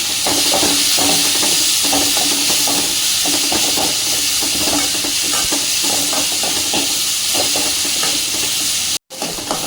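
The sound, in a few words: sautéing tomatoes and cabbage in a pan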